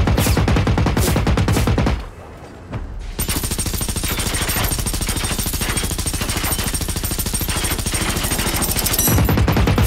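Rapid automatic gunfire from a rifle in the video game Generation Zero rattles in loud, dense bursts, with a brief pause near the two-second mark before the stream of shots resumes and continues to the end.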